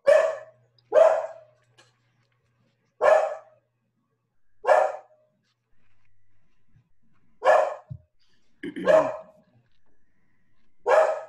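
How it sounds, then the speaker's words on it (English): A dog barks loudly and close by in a quiet room during an online city commissioners meeting, about seven sharp separate barks spread over eleven seconds with short silent gaps between them. "I guess you can hear my dog."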